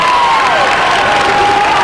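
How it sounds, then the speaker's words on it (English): A girls' high school basketball crowd cheers and yells after a made 3-pointer, a loud, dense wall of voices and applause with a sustained whistle-like tone running through it. "Moriah crowd yelling, shoot it"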